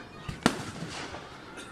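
Firecrackers at a National Day celebration in Marly: one sharp, close bang, with a softer pop just before it, over faint background murmur.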